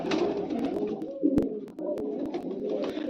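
Pigeons coo steadily in a low, rolling murmur close by, a few sharp taps and knocks cutting through the continuous cooing.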